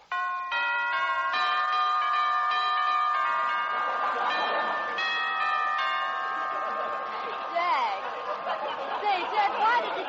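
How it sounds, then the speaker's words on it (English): A sequence of bell tones sounds as a sound effect on a vintage radio comedy show, rung in a series of overlapping pitched strikes that ring on, with audience chatter and laughter rising beneath and after them. "Well, I'll ring Roy's bell."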